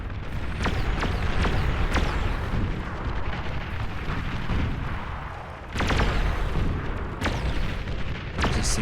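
Laser weapons firing in the sci-fi strategy game Beyond All Reason, a rapid, irregular series of sharp zaps and blasts over a constant heavy rumble of battle, with one louder burst near the end.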